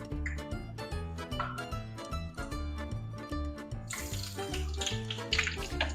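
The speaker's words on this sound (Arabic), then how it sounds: "نبدا ننزل بالبتنجان بتاعنا" Eggplant slices go into hot frying oil for Sicilian pasta alla Norma; a broad, steady sizzle swells up partway through over constant background music.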